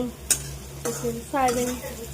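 Vegetables fry in a pan over a quiet background hiss while a utensil stirs them, giving a few sharp clinks and short scraping strokes close by.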